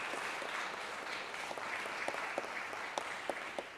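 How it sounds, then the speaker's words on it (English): Audience applause for students at a Project Lead the Way capstone presentation, a faint, distant wash of clapping with a few sharper individual claps standing out. "help me with one more round of applause for all of our students"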